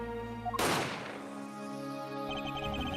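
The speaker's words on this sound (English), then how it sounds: "That is when I heard the fateful gunshot." A single sharp gunshot cracks out in the Ace Attorney: Apollo Justice video game, loud and sudden against a sustained musical backdrop, then decays into a fading tail while the music continues.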